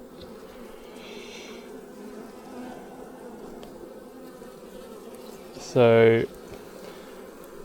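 Open beehive with varroa mites and patchy brood in the New Zealand bush, bees droning steadily in the background while someone speaks briefly and a louder burst of sound rises near the end.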